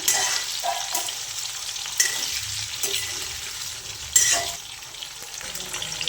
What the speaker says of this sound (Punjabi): ਚੰਗੀ ਤਰ੍ਹਾਂ ਗੋਭੀ ਨੂੰ ਆਪਾਂ ਮਿਕਸ ਕਰ ਲਾਂਗੇ ਤੇਲ ਦੇ ਵਿੱਚ